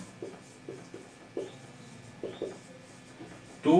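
A pen or marker scratches out a determinants maths lesson in short, separated strokes, faint and close, with pauses between bursts and a louder rustle at the end; no voices.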